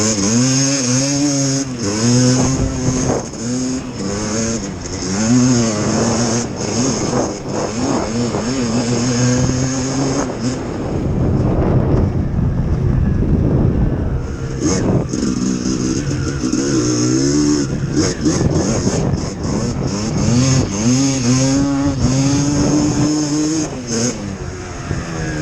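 A Yamaha YFZ450 ATV with a Banshee engine swapped in, running loud and close with a buzzing two-stroke note that revs up and down repeatedly, rising and falling in pitch.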